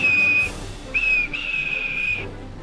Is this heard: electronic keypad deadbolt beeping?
no